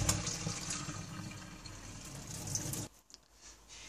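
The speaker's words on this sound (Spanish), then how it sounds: "Botamos los macarrones no colador." Cooked macaroni and its hot water pour into a colander in a rushing, splashing gush that stops abruptly near the end, leaving a few faint drips.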